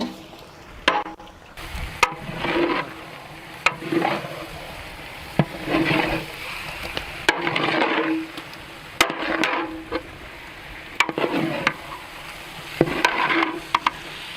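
Chicken kabsa being stirred in a pot, with repeated scraping and clanking strokes every second or two over a continuous sizzle, close and fairly loud, with sharp knocks against the pot between strokes.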